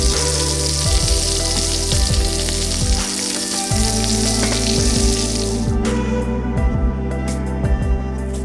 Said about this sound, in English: Lamb grill steak on the bank.